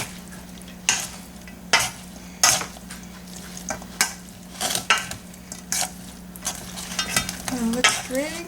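A spoon stirs ground beef filling for stuffed peppers in a pan, giving repeated scraping and clattering strokes about once a second over a steady low sizzle, close and fairly loud with no talking.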